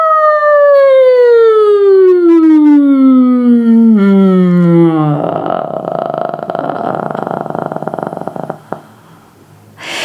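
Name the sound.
voice imitating a siren, sliding from high to low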